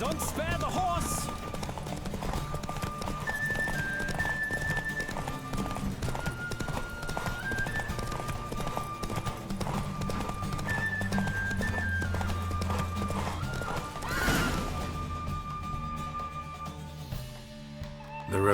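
In a horse race in The Witcher 3, a horse gallops with steady, rapid clip-clop hoofbeats and occasional neighs, set against game music and ambient sound with talk throughout.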